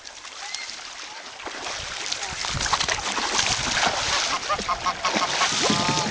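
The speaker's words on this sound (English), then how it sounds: "the geese are following me" Geese honk repeatedly in an outdoor chase, their calls rising in clusters amid water splashes and excited talk from children nearby.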